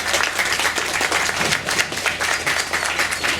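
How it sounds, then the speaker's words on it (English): A large audience applauds panelists at the close of a panel discussion, a loud, dense, sustained roar of many hands clapping with steady rhythmic texture throughout. "Can we give our panelists a big round of applause?"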